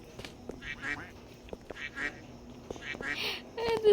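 A person imitates a duck, making a quick series of nasal quacks in short bursts with small gaps, close and fairly clear against a quiet background.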